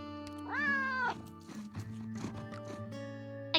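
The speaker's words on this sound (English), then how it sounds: "We've got meows to listen to." A recorded cat gives one clear, drawn-out meow, followed by lower murmuring cat vocal sounds and a faint scratch, played back close and fairly quiet.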